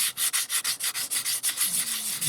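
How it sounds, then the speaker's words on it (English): Quick back-and-forth strokes of 600 grit sandpaper rubbing on a cherry wood bowl, a steady rhythmic scratching hiss, close up with no talking. "I'm just going to give it a quick wipe over with some 600 grit"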